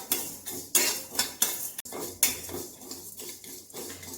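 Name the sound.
dry roasting cinnamon, cumin and fenugreek seeds in a pan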